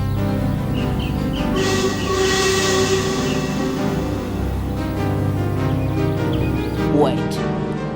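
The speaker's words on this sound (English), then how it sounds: "That sounded like a whistle." A train whistle sounds in a rail setting, with a brief rising tone near the end over steady rumbling rail noise and background voices throughout.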